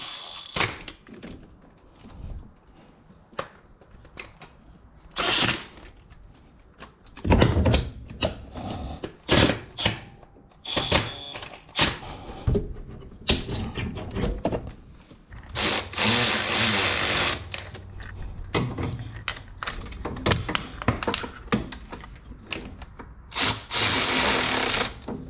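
Valve cover bolts on a Toyota 4.7 engine are snugged down with a power tool, giving repeated short whirring bursts separated by pauses, with clicks and clanks of tool handling in between.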